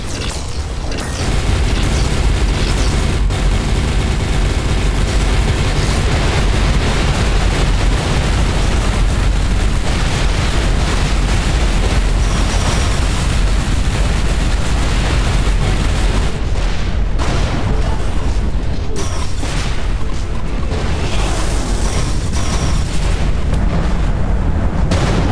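Rapid rocket explosions from a boss fight in the space shooter Everspace 2, a dense, continuous barrage of booms and mechanical weapon noise, loud and unbroken throughout with no talking.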